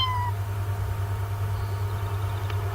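A cat meows in The Sims 2 life-simulation game: one short, rising meow at the start, clear over a steady low electronic hum, with no talking.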